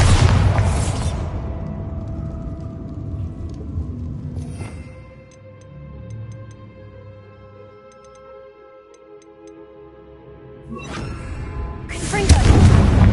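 A Bombarda blasting spell in a Harry Potter parody bursts with a loud, close boom at the start, fades into a quieter ringing stretch, then swells into a second heavy blast near the end.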